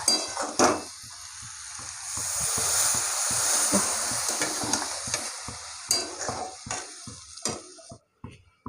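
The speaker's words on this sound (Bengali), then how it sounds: "মশলাগুলো ভালো করে কষিয়ে নিয়েছি জল দিয়ে দেবো" Water poured over well-fried spices in a pan sets off a loud, rushing sizzle that swells in the middle, then breaks into spatters and utensil scrapes as it fades and cuts off near the end.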